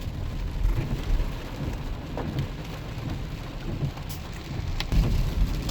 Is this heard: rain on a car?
yes